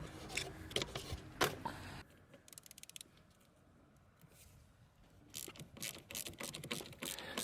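A 10mm socket ratchet clicks in short bursts as it loosens the negative battery terminal on a Hyundai i30 1.6 CRDI, with quiet gaps between runs and no talking.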